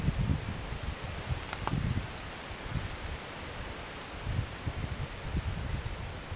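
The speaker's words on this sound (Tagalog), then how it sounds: "Hangin pa rin po." Strong wind sweeps through banana and rambutan trees in a steady, hissing rustle that swells and eases in gusts, with no voices.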